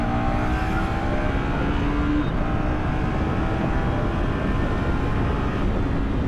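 A 2024 KTM Duke 250 motorcycle ridden through city streets, its steady engine drone holding close and constant with rushing wind noise and no voices.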